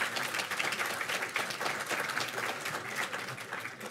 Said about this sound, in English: Give him a hand of applause, everyone.